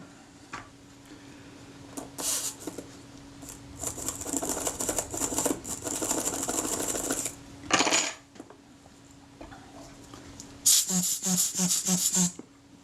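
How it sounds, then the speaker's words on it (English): A Retina I type 010 camera shutter, flooded with naphtha solvent, gets short blasts of compressed air, each a loud hissing burst lasting a second or so. Small metallic clicks and snaps of the shutter action come between the bursts. "Blow out all that solvent, and along with it any rubbish that's picked up"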